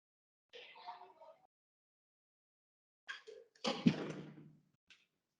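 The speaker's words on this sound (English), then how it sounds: "I'm just going to close this door." A door closes with a solid thump after some faint shuffling and handling noise, close by in an otherwise quiet room, with a brief soft sound afterward.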